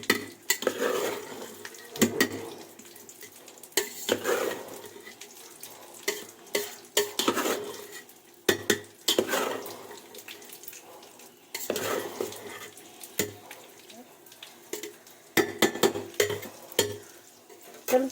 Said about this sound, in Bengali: আর এটা কিন্তু আমি আস্তে আস্তে করে এইভাবে মিশে নেব